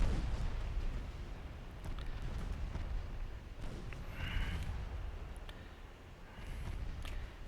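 Heavy battleship guns fire during a naval battle in Ultimate Admiral Dreadnoughts, a Japanese fleet fighting Germany, with low rumbling booms rolling over a constant dull roar of distant battle.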